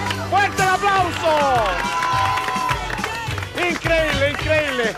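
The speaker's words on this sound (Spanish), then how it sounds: "¡Fuerte el aplauso!" A studio audience at a Spanish-language dating game show with a bachelorette-party theme claps and cheers. The crowd noise sits under a loud, excited host shouting over it for the whole stretch.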